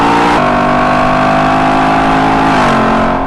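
A Lexus LC 500 Tarantula Edition drives through forest S-curves and hairpins, its engine droning loudly and steadily with audible gear-linked pitch shifts, close and continuous.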